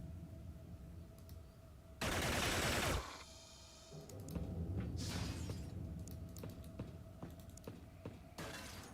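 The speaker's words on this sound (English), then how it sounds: "These laser weapons are alright." Laser weapons firing in the video game Xenonauts: a loud one-second burst of crackling fire stands out, followed by a string of sharp shots and zaps of varying strength over steady background game sound.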